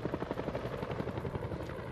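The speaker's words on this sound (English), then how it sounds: "Another helicopter flying in?" A helicopter's rotor in the video game House of Ashes thumps in a fast, steady rhythm at moderate distance, with no voices.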